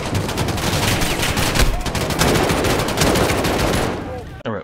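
Sustained automatic gunfire from the 2019 Modern Warfare video game, dense rapid bursts loud and close for several seconds, then cutting off abruptly into quiet at the end.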